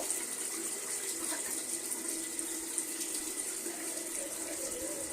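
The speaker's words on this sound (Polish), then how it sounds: "ała, ale gorąca woda" Hot water runs steadily from a tap into a sink in a home bathroom during hair dyeing, a continuous close, fairly loud rushing splash with no talking.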